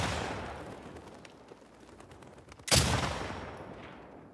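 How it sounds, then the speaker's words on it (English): A single heavy gunshot in The Last of Us Part II, a sharp, loud crack with a long decaying echo, following a quieter stretch of ambient rustle and distant noise. "You gonna fire that loud gun?"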